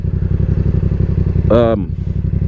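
Yamaha MT-07 motorcycle riding through rush-hour traffic, its engine giving a steady close, loud drone with a brief rising surge of revs near the middle, a short voice-like burst over it.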